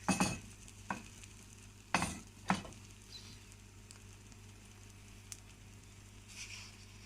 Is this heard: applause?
no